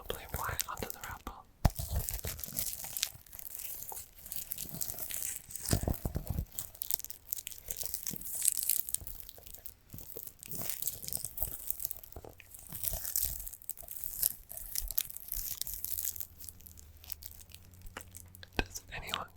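Crinkling and tearing of the foil wrapper on a Red Tulip Easter egg chocolate, close and soft, with irregular crackles and rustles over about twenty seconds, mixed with quiet whispered speech.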